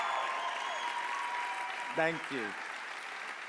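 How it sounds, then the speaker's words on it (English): An audience at an on-stage event claps in steady, sustained applause, and a voice briefly says thanks partway through. "a huge applause"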